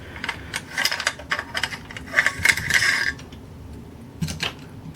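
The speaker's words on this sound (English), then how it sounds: "you can take the charging handle out" Metal parts of a Daewoo K2 rifle click, scrape and rattle as the charging handle slides out during a field strip, a close sequence of small sliding and clinking sounds over low room noise, without speech.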